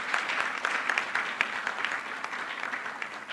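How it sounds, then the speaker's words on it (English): Conference audience applause, moderately quiet and even, with many hands clapping in a steady wash for a few seconds without speech. "Let's give ourselves a round of applause."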